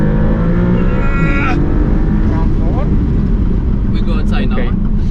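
Maserati MC20 V6 engine droning steadily and loudly throughout, heard from inside the car on the move, with a person talking over it and brief rising and falling tonal sweeps.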